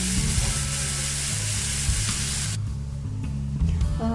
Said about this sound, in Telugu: ఆనియన్ అనేది కాస్త స్టవ్ మీద వేగుతున్నప్పుడు